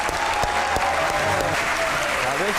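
Studio audience applause welcoming cricketers Umaid Asif and Ahmed Shehzad on a TV chat show, a dense steady wash of clapping with crowd noise and a voice speaking over it.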